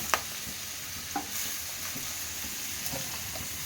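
Amaranth leaves frying with garlic in a pan give a soft, steady sizzle with a few clinks of stirring, fairly quiet and close, with no voices.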